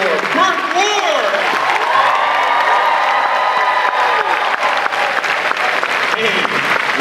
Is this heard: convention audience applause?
yes